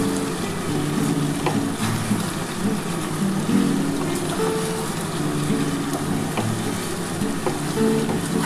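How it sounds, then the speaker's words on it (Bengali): Spice paste for chicken curry sautéing in hot oil in a pan, a continuous soft sizzle and crackle with faint stirring scrapes, fairly close and steady throughout. "আমি এত ভালো করে কষাচ্ছি, তেল তো ভালোভাবে ছেড়ে আসারই কথা"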